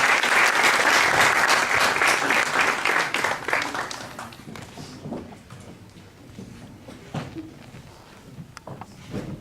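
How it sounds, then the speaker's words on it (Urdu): Audience at an Iqbal Day gathering in The Hague applauding an ambassador, a loud, dense burst of clapping that fades over about four seconds into scattered claps, shuffling and room noise. "جناب سفیر صاحب کے لیے بھرپور تالیاں"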